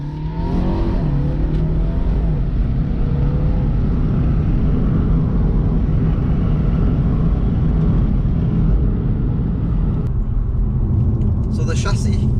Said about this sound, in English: It is quite a joy to drive this car on these country lanes